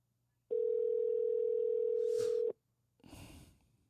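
A telephone dial tone hums steadily for about two seconds, then cuts off, followed by short bursts of line noise as a call to a barbershop connects.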